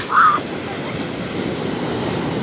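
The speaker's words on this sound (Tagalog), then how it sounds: "Ang lalaki ng alon." Big ocean waves in a steady, roaring wash close by, with a brief louder tonal burst at the very start and constant low rumble throughout.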